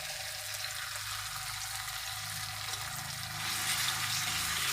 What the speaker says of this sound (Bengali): একসাথে আমি মশলাটা কিছুক্ষণ কষিয়ে নেব